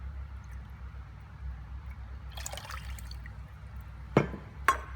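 Water poured into a pot of tri-coloured quinoa, a faint trickle followed by two short, sharp splashing pours close by, with no talking.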